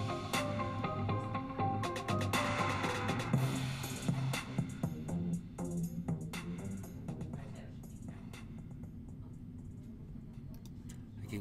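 Closing bars of a GarageBand song with layered electronic instruments and ticking percussion, gradually fading down in loudness toward the end.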